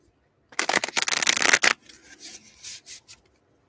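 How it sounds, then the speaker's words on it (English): Tarot cards shuffle in a dense, fast riffle of crisp papery slaps, then a few softer separate card pulls and slides from the deck follow, close and alone. "So we're going to pull 3 cards from this deck."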